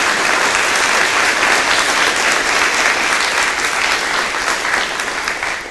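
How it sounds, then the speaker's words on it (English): An audience at a mayoral debate in Harrisburg, South Dakota applauds the candidates with sustained dense clapping at a steady level, easing slightly toward the end. "Please give them a big round of applause for being here tonight."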